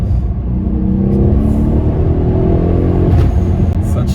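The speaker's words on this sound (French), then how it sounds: "La boîte suit très très vite quand tu accélères comme ça." A Mercedes CLS63 S AMG engine (585 hp) revs hard and rumbles loudly, pitch climbing as it accelerates, heard close from inside the car.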